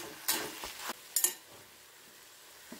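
Ivy gourd roast fries with chili flakes in a pan, giving a faint, steady sizzle. A few quick scraping stirs and light taps sound up close.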